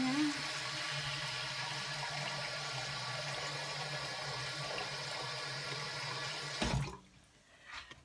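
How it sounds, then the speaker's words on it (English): Water running steadily into a bowl of dough in a home kitchen, a continuous close splashing flow that cuts off near the end. "Put some water in here."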